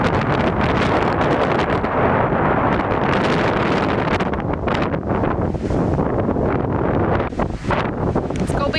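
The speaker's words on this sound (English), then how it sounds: "Windy day." Strong wind buffets the microphone in a constant loud roar on a mountain hiking trail in Vermont, gusting and rumbling without a break.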